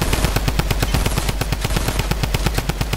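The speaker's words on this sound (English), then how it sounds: "Two drum guns!" A drum gun in the Fortnite Battle Royale video game fires a loud, continuous rapid burst of gunshots, evenly spaced and sustained throughout without pause.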